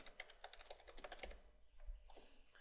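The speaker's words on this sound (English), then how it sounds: "So I'll type in my title here." Rapid typing on a computer keyboard to enter a title, a close, quick run of crisp key clicks in bursts with a short pause midway.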